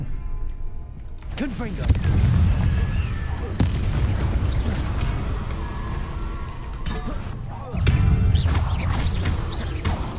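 Spell combat in the Hogwarts Legacy video game against zombies, with repeated magical blasts, crashes and impacts sounding close and loud over a dense backdrop of game effects, swelling again near the end.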